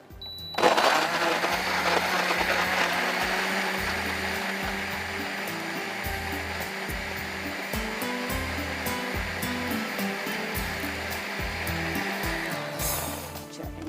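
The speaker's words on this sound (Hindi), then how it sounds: "अब इसको थोड़ा सा हम ब्लेंडर में चला देते हैं" A blender motor whirs loudly for several seconds in pulsing bursts, grinding a tomato spice mix steadily before cutting off near the end.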